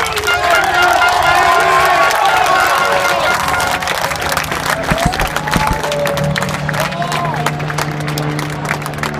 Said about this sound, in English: The crowd clapped every single time a British driver went past for the entire Grand Prix.